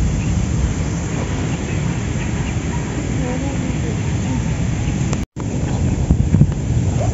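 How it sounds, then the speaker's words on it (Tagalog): Strong wind blows across choppy water at a carp fishing spot, heard as a constant roar and buffeting against the microphone, with lapping water underneath and a brief dropout near the end. "Lakas ng hangin. Galaw yung tubig."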